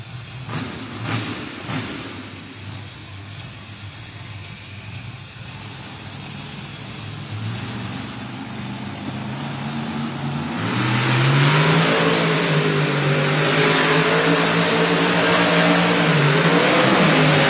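A Monster Jam monster truck engine at an arena championship event in Lexington, Kentucky revs and climbs in pitch, growing louder and sustained toward the end, heard alone without talk.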